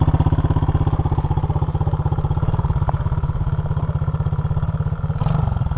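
An SSR Motorsport 110cc dirt bike engine chugs in a steady, rapid low-pitched putter as the clutch is let out, close and loud, holding a fairly even rhythm with a slight rise in revs near the end.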